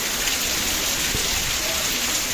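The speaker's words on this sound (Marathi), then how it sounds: "अफलातून पाऊस पडलेला आहे" Heavy rain pours down steadily during a sudden May storm with wind, a dense, continuous hiss close by with no pauses.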